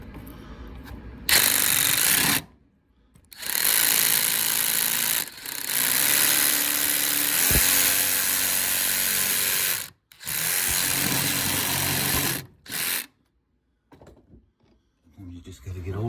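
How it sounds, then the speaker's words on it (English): A drain pipe is cut by hand with a metal sawzall blade, giving loud, rough rasping strokes in long bursts broken by short pauses. "You got a metal blade out of a sawzall. I'm just gonna do it by hand."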